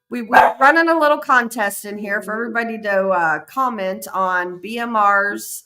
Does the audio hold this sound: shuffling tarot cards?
no